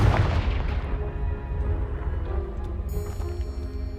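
A Confringo spell blast in the Hogwarts Legacy video game, a heavy booming impact with a deep rumbling tail that slowly decays, followed by a faint high tone near the end.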